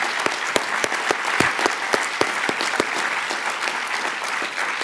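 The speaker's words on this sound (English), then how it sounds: "So maybe a big round of applause for all of those who helped make this event happen." Lecture audience clapping for the people who helped run the event, a steady wash of applause with a few sharp, distinct claps standing out near the recording point.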